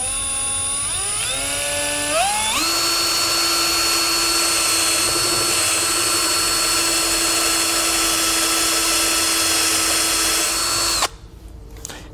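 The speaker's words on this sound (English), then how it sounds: "we'll just go ahead and drill into the plastic and stop when we have a 3/4 inch hole" A power drill turning a step bit through plastic to bore a 3/4 inch hole: the motor whines up to a steady loud pitch, holds for about nine seconds, then cuts off abruptly.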